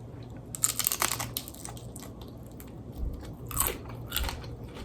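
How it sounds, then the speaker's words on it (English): Crunchy baked chicken skin from a sheet pan being bitten and chewed close up, several crisp crackling bites and crunches in irregular bursts, with no talk. "There's still some pretty good crunch factor there."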